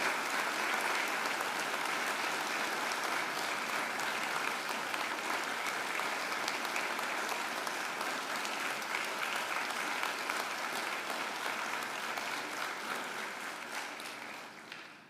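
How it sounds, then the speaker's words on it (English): Graduates at a Macquarie University graduation ceremony give a sustained round of applause to their families and friends, a broad even roar of many hands that holds steady and then fades slightly toward the end. "now I ask you to give them a mighty round of applause"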